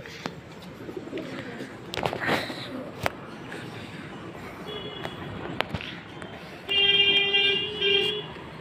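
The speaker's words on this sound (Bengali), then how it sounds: "পায়রা রোদ্দুরে এরম তাপাবে তারপরে গাইস কিছুক্ষণ পরে আমি তুলে দেবো" Pigeons sunning themselves after a bath give soft, intermittent coos close by, with a few sharp knocks and a louder burst of cooing near the end.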